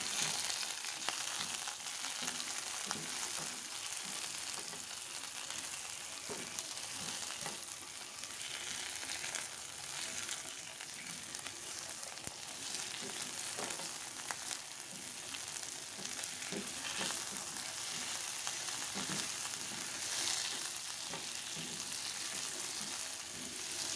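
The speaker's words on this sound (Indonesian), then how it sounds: "Lalu kita masukkan udangnya ya." Shrimp frying in a pan, being cooked with green beans, giving a steady, dense sizzle that carries on unbroken throughout with faint stirring clicks underneath.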